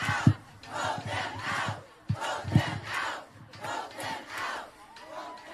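A protest crowd gathered against a Supreme Court nomination chants in loud rhythmic bursts and cheers, with sharp shouted peaks rising over a continuous roar of many voices.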